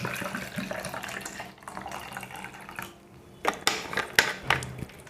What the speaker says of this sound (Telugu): షేకర్ కప్లోకి ఒక 200 ml వాటర్ తీసుకోండి.